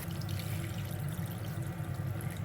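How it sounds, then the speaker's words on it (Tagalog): Water poured into a cooking pot for chicken tinola after sautéing, a steady continuous pouring and splashing rush that stays even and fairly close throughout, with no talking. "maglagay na tayo dito ng tubig."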